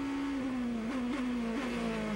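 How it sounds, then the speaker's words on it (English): A GP2 race car engine at the Valencia street circuit holds a steady, high sustained tone with slight pitch wobbles through the gears, loud and continuous with no talk. "Filippi's car sounds better than it did yesterday in the feature race."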